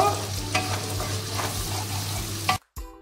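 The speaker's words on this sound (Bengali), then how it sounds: "এই মশলাটা এবারে কষিয়ে নেব।" Spice masala paste for chicken dopiaza is sautéed in a pan, giving a steady loud sizzle with rough stirring scrapes throughout, then cutting out briefly near the end.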